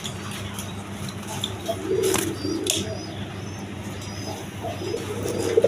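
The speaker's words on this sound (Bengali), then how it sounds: "গররা কবুতর দেখেন কালারিং গররা" Coloured Gorra pigeons coo softly in a market or loft setting, low rolling coos repeating under a steady background hum, with a few sharp clicks and brief chirps scattered through.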